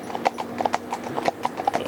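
Hooves of a pair of cob horses clip-clop in a brisk, steady rhythm, close and clear with no talking.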